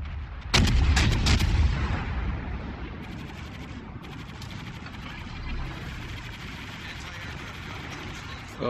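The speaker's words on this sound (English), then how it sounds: "defensive anti-aircraft fire." Anti-aircraft guns of the cruiser USS Cleveland firing in World of Warships, a burst of sharp loud blasts at the start followed by continuous rattling gunfire and rumbling battle noise throughout.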